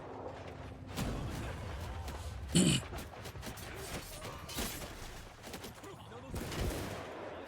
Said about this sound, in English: Tell them to fire, Will.